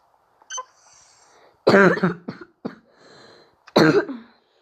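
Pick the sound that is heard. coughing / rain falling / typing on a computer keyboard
coughing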